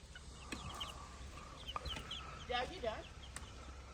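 Chickens clucking on a small farm setup with an automatic feeder and waterer, several short close clucks and chirps scattered over faint background noise.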